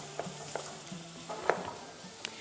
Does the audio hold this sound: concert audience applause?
no